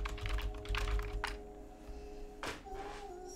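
Keys on a computer keyboard are tapped in quick, irregular bursts, fairly quiet and close, with a few louder isolated clacks and a faint background tone.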